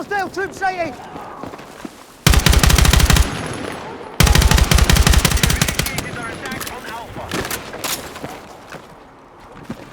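Bursts of automatic gunfire in the video game Battlefield 6, two long loud sustained volleys with scattered shots and footsteps around them, while a voice talks over parts of it.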